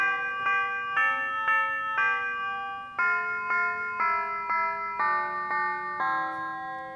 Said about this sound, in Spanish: esto lo puedo cambiar con otro instrumento, unas campanas por ejemplo,